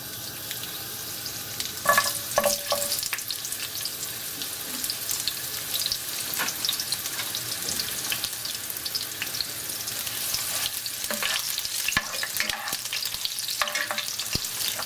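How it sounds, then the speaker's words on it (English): Sliced galangal root and three Indonesian bay leaves sizzling in hot oil in a pan, a steady crackling fry throughout with a few brief clinks and stirring knocks. "To my pan, I've added some oil, and to the oil, I'm going to be adding my aromatics."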